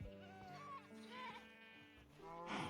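Goats bleating in the Minecraft mod TerraFirmaCraft, several wavering, nasal bleats overlapping in quick succession, close and clear, ending with a burst of rustling noise.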